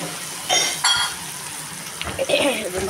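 Potato and cauliflower with masala cooking in a pan give brief sizzles and stirring scrapes, with a few light metal clinks between short bursts.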